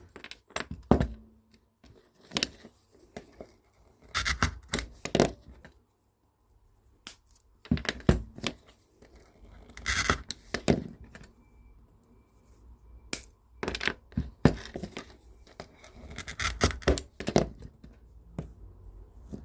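Glass being scored and snapped into triangles for a fused glass tealight, heard as irregular sharp clicks, crunches and clinks in close, uneven bursts with short quiet pauses between.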